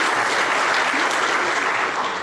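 A book release event audience claps for an author in a short, dense burst of applause that stays loud and even for its full length.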